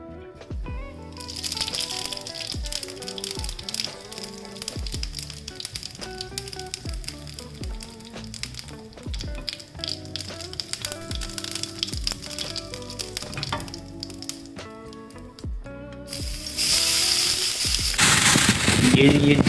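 Cumin and carom seeds crackle and pop in hot oil, a dense run of sharp spits and sizzles close by, growing into a louder hiss near the end.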